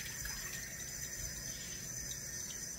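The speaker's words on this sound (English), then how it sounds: "And I'm adding hot water to this" Hot water running from a tap into a bowl while making wheat bread, a faint steady trickle and gush, quiet and continuous with no talk.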